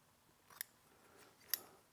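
Scissors snipping nitrile gloves in half in a woodworking shop, two quiet, sharp cuts about a second apart against a near-silent background.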